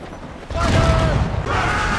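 Broadside of ship cannons in Assassin's Creed Rogue booms loudly after a short quiet start, the heavy blasts rolling on under shouting crew.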